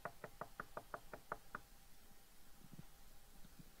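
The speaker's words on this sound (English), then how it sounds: "Then I knock again." A house door is knocked on in a quick series of about nine close, crisp raps, followed by a few fainter, softer taps and quiet background.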